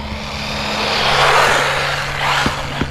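An Arrma Typhon Grom RC car fitted with a Castle Mamba Micro X2 motor, run at light throttle on tires that cannot take full power, gives a loud, close broadband whir that swells and eases, with a couple of sharp ticks near the end.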